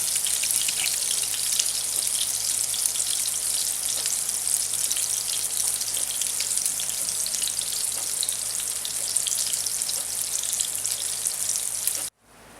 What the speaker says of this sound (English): The sausage has been cooking for a little while.